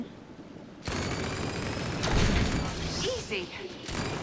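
Rapid, sustained bursts of gunfire in the video game Split Fiction, with mechanical clatter, fairly loud and continuous, with faint voices underneath.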